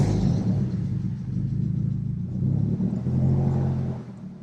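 A Mazda Miata's engine rumbles and revs steadily close by, with an exhaust fitted with two resonators but not yet fully attached, sounding louder than stock and holding a deep continuous drone that swells and eases.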